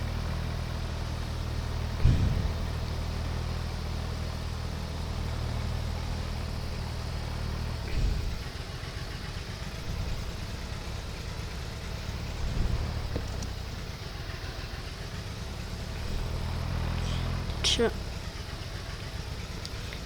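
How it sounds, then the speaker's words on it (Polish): Farming video game tractor idles as a steady low engine drone that runs throughout, with someone talking over it. "coś mi się wydaje, że może być głośny ten ciągnik"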